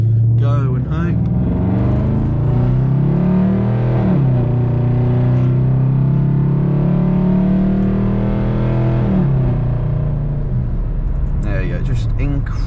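A 1999 Jaguar XJ8 pulls out and drives, its low engine drone rising and falling through gear changes, heard from inside the cabin under continuous talking.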